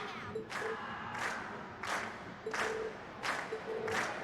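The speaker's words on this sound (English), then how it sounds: "we've heard your cheers loud and clear" A festival crowd in the video game Trails of Cold Steel cheers and claps in repeated surging bursts, a dense, moderately loud wash of applause and shouts.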